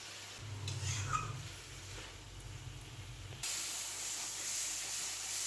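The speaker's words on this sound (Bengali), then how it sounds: "আমি এখন এখানে ভেজে রাখা ঝিঙ্গে আর আলুটা দিয়ে দিচ্ছি।" Fried ridge gourd and potato pieces go into a pan of masala cooking over a low gas flame, and a soft hiss steps up into a steadier, louder sizzle partway through, faint and without speech.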